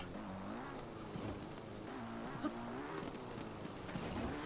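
A motorbike engine in the video game Zelda Breath of the Wild, ridden over rough terrain, drones steadily with a wavering pitch that rises and dips as the rider works the throttle, at an even, moderately loud level.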